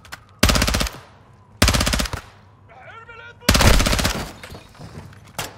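Machine gun fire in the video game Call of Duty: Modern Warfare 2 comes in three loud, rapid bursts, each fading out before the next. A brief warbling electronic tone sits between the second and third bursts.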